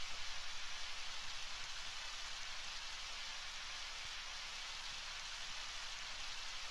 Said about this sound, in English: This is just one spot that rains.